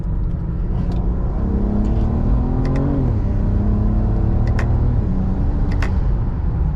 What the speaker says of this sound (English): we'll try manual mode and we'll short shift it a bit